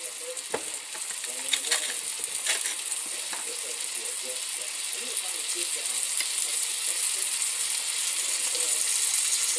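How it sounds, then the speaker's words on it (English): A ribeye steak sears in a cast iron skillet over high heat, making a loud, continuous crackling sizzle with sharp spitting pops that builds slightly, with no talking. "we're going to turn the heat up to actually sear it"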